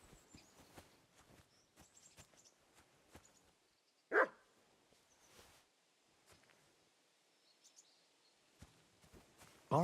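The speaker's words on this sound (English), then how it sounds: "Barking." A dog barks in the medieval video game Kingdom Come Deliverance 2, one sharp nearby bark standing out from quiet footsteps and faint birdsong, with another burst at the very end.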